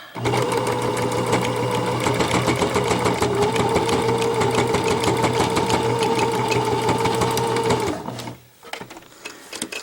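A sewing machine stitches a fabric mask in a steady, rapid mechanical whir and chatter, close and continuous for about eight seconds before stopping, followed by faint handling noise.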